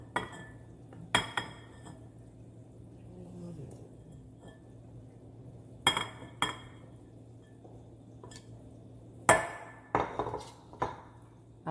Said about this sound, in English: So I'm now going to mix my cheese. I have my Monterey Jack cheese and my mozzarella cheese here.